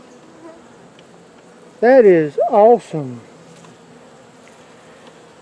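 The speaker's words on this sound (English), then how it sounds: "Look at the bees on this thing," Bees in an open hive being inspected: a faint, steady buzz hums quietly in the background throughout, while someone talks briefly over it.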